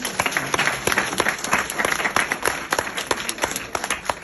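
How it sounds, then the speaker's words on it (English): Sustained applause from an audience, dense clapping filling the whole stretch at a steady, moderately loud level with no speech. "give yourselves a round of applause for that"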